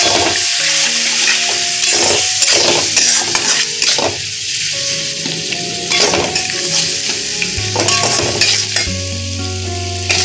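Spices with turmeric and salt for a Bengali jackfruit curry sizzle loudly in a hot pan while being stirred, with frequent clinks and scrapes of a spoon against the pan over soft background music and no talking.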